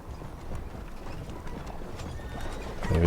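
A horse in the video game Red Dead Redemption 2 walks with a steady patter of hooves, heard fairly close at moderate loudness. A faint whinny may be mixed in, and a louder thump lands at the end.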